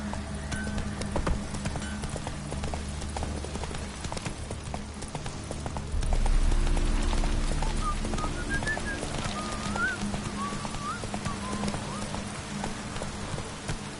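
Hooves of Roach, Geralt's horse in The Witcher 3, clip-clop at a steady trotting rhythm. A whistle-like melodic tone rises over the hoofbeats partway through, and the low rumble swells briefly.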